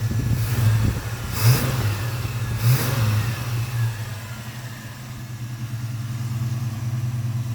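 A Chevrolet El Camino that started life with a V6 runs steadily at a healthy idle, with two brief revs early on before settling into a smooth, even engine drone close by.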